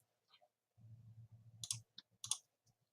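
Mouse clicks on a computer while using an online graphic design tool, a few sharp clicks including a quick double click, close and fairly quiet, with a low rumble from room noise around them.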